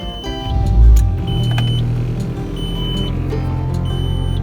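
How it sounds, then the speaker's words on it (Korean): A 2002 Samsung SM520 sedan, old and about to be scrapped, cranks and its engine catches with a loud low thump, then settles into a steady close idle hum with a faint high whine above it. "이제 마지막 시동 소리가 되는 건가?"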